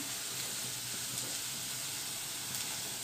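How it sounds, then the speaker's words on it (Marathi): Chopped onion frying in hot oil for a spicy mixed vegetable curry, giving a steady, even sizzle with a soft bubbling hiss throughout and no voices. "कांदा आपला छान भाजून झालेला आहे"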